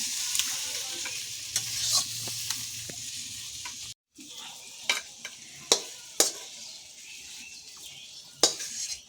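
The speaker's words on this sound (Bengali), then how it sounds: "পটলটা কিন্তু লাল লাল করে ভাজা হয়ে গেছে।" Pointed gourd (potol) fried until reddish in a pan, with steady sizzling and sharp scrapes of the spatula at irregular intervals, close and fairly loud, with no talking.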